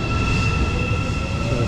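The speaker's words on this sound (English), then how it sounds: "So it's the train just going now." Busan metro train pulling out of a station, a steady broadband rumble and rush of motion with a constant high whine, loud and close, no voices.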